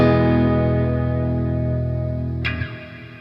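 An electric guitar rings out a sustained chord drenched in heavy reverb with pre-decay, the wash slowly fading before a brief pick scrape and a quick cutoff near the end.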